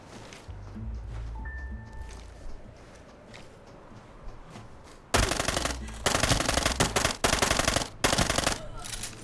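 Automatic machine gun fire in the shooter game Arena Breakout, loud close rapid bursts in the second half after quieter footsteps and background game sounds.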